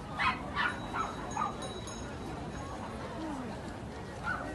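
Dogs at a dog market in Japan bark in several short, sharp bursts early on, then quieter yips and whimpers amid a busy crowd murmur.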